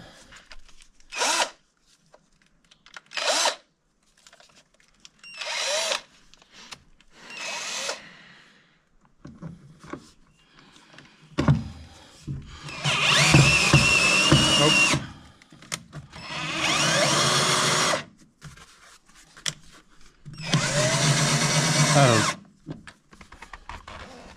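A power drill bores a hole during restoration work on a YuMZ tractor cab, starting in several short whirring bursts, then running in three longer loud stretches with pauses of quiet between them, close by, no talking.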